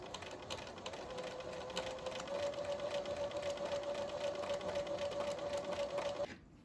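A sewing machine runs in a steady, rapid mechanical whir while quilt block pieces are stitched together, fairly quiet and continuous before stopping abruptly near the end.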